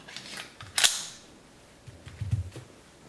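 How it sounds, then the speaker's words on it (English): A Taurus PT111 G2 pistol magazine released by its button and dropping free, a sharp bright metallic click near the start followed a moment later by a duller low thump as it lands. "mag release is there, magazine drops free"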